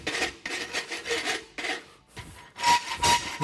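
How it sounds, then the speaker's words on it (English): A farrier's rasp works the heel of a horse's hoof in loud, close, coarse filing strokes, several in quick succession with short pauses between. "Now we can rasp that heel up."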